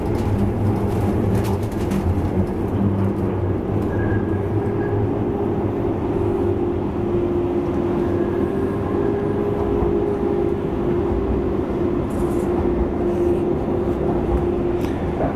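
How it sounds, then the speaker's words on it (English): Fully automated Docklands Light Railway train in London riding along, a steady loud rumble and hum of the carriage throughout with faint chirps and a brief tonal whine midway, no talking. "And I'm on the train."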